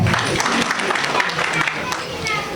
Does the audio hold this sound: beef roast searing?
no